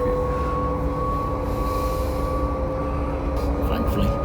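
A passenger train bound for Stowmarket runs along with a steady low rumble and a sustained whining tone, continuous and even across the few seconds.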